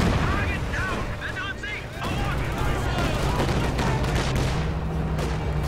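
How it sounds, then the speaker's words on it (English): Katyusha rocket artillery barrage in Company of Heroes 2, a dense, loud rumble of repeated launches and blasts with whistling rocket streaks, sustained without pause. "And now the follow-up Katyusha barrage."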